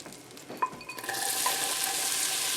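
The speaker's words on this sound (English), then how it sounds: "My oil becoming nice and hot. I hear it sizzling. Butter is melting." After a few light clinks of a utensil, a pan of oil and butter starts sizzling loudly and steadily as the hot fat crackles.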